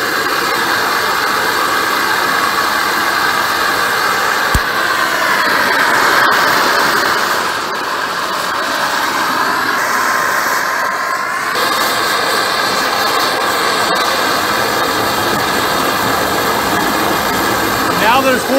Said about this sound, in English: When you get that nice jet engine sound like that, you know you're close.